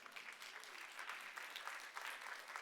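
An audience at a World Food Day conference gives sustained clapping, a dense, fairly quiet patter of many hands that continues evenly throughout.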